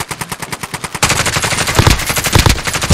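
Rapid automatic gunfire in the video game Call of Duty: Warzone, a steady close burst of shots that thickens into denser, louder overlapping fire after the first second, with no talk over it.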